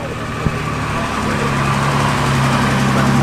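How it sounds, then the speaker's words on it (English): A classic car engine runs close by at a classic car show, with a steady low rumble that swells slightly louder partway through, after a brief knock near the start. "I'll turn my mic around so you can hear the engine"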